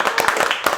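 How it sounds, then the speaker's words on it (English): Studio audience giving a short burst of applause, dense clapping from many hands at close range. "give yourselves a round of applause."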